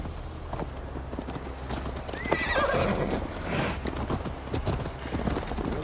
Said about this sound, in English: Mount up, Eivor. It's a long ride to Tamworth.